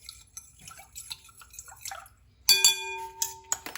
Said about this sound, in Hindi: यहाँ पे 1 गिलास भर के पानी का ऐड कर देंगे।